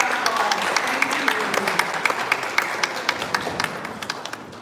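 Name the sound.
applause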